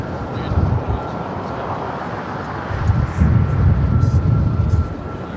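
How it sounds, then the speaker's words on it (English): Lufthansa Boeing 747 jet airliner at LAX, a broad, steady rumbling roar that swells toward the end, heard from a distance. "Comes the Lufthansa Queen."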